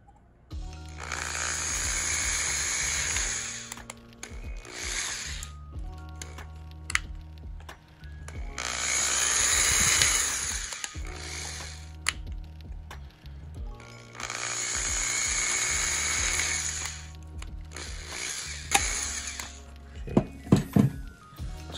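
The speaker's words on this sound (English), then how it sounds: "So I just drill three holes like that." Three long bursts of a loud power drill whirring as it drills holes in a kit's plastic shell for an LED add-on, separated by short pauses, with some clicks and clatter near the end.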